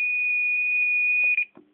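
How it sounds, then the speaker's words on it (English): The buzzer on a Gent Xenex fire alarm control panel holds one steady, fairly loud high-pitched tone for about a second and a half. It then cuts off abruptly, followed by a couple of faint clicks. "That's to cancel the buzzer because the buzzer's annoying"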